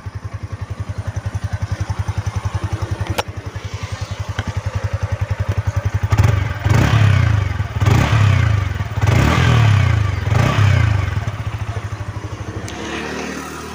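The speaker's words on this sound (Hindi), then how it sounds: "अभी इसका जो एग्जॉस्ट नोट है वो आपको मैं सुना देता हूँ" A 2022 Yamaha R15 V4 sport motorcycle idling close by with a steady thumping exhaust note, then blipped through several loud throttle revs that rise and fall before settling back to idle.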